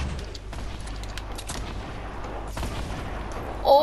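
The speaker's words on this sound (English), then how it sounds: "Oh, oh good grenade launch" Grenade launcher rounds firing and exploding in Fortnite, a dense run of gunfire and booms with a sharper burst near the end, loud and close without speech.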